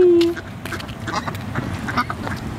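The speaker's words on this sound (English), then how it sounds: "Are you feeding the ducks?" Ducks quack repeatedly and loudly nearby, a cluster of short nasal calls in an uneven rhythm, with a brief tone at the start.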